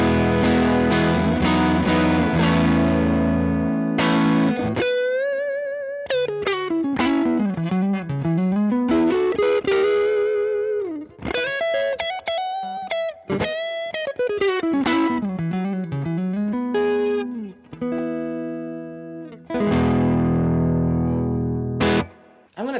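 An electric guitar runs through a Donner Dumbal Drive overdrive pedal with bass, treble and gain turned up, playing distorted chords and bending lead phrases with compressed, saturated tone and pauses between passages, no talking.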